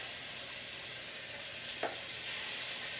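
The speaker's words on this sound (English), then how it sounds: "Love that sizzle, that's what we want." A quiet, steady sizzle of tomatoes searing cut side down in a hot pan, with one brief clink partway through.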